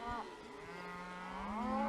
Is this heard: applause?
no